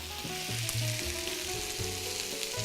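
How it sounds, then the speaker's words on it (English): Sugar snap peas, snow peas and thin green beans sauté in a hot pan, giving a steady close sizzle under a loud tonal background of music or hum, with no voices. "So what I'm sauteing is very quickly."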